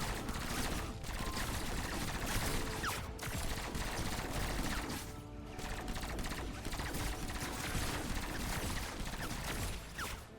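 A turret blasts away in Fortnite Save the World amid a dense wall of continuous combat noise, with rapid repeated shots and impacts layered under a busy, steady mix that never lets up.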